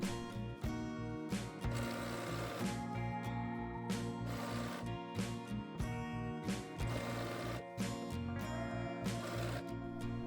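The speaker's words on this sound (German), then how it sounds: "Dort wird dann verriegelt und einmal bis zur anderen Seite genäht." Sewing machine stitching a denim jean jacket collar seam, backtacked at the start and run to the other side, a fast rhythmic close mechanical chatter with brief pauses.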